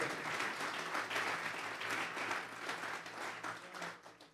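A church congregation applauds together at a sermon's call for an offering of clapping, a dense, steady wash of many hands that holds for several seconds and then tapers off slightly toward the end.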